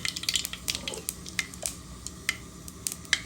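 Panch phoron spices drop into hot oil in a pan, heated to fry fish roe, and crackle in quick, sharp pops over a low sizzle across a few seconds, with no voices.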